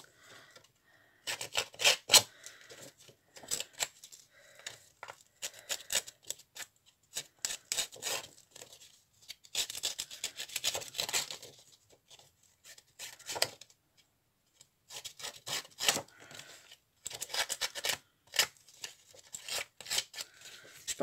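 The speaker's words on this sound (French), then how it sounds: "Alors, on va distresser un petit peu ce papier légèrement." Paper for a shabby-style winter card is roughed up with a distressing tool, giving close, dry scraping and rasping strokes in quick bursts separated by brief pauses, with no voices.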